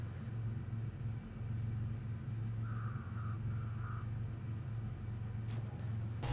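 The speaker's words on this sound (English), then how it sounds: "It roars like a train and guzzles gas, but makes up for it with off-road ability." A late-1980s Chevy CK1500 pickup truck in the SnowRunner video game gives a steady, loud engine rumble that holds at a low drone throughout, with a brief higher tone partway through and a sharp click near the end.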